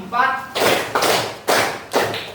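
A classroom of students claps together in four evenly spaced, loud group claps, each a sharp burst, following a short spoken voice at the start.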